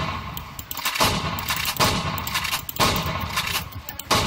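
A shotgun fires in the video game Garry's Mod: four or five loud, sharp blasts at uneven intervals, each with a short echoing tail, and no talking.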